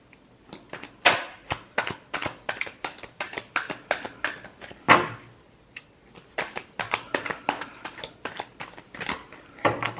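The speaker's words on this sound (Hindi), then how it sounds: "Last shuffle." A deck of tarot cards is shuffled up close in quick, rhythmic riffles and sharp flicks, with a brief pause midway before the steady snapping resumes.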